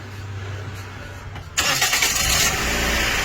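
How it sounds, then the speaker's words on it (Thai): A car engine cranks and catches, jumping from a low idle hum into a loud, steady running roar that continues to the end. "สตาร์ทเครื่องเลย"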